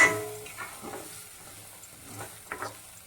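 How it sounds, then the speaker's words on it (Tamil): Eggs sizzle gently in a heavy-bottomed pan while being stirred slowly, with a soft frying hiss and a few scraping strokes of a spoon, fairly quiet and close. "இப்போ முட்டை அடிப்பக்கம்லாம் கொஞ்சம் வெந்துருச்சு இதை மெதுவாக இப்படி கிண்டி விடலாம்"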